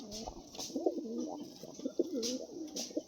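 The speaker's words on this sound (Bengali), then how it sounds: "তার পরবর্তী এক পেয়ার লাল ছিলা পায়রা আছে" A pair of red pigeons cooing close by, soft throaty rolling coos repeating several times over a few seconds with faint chirps between.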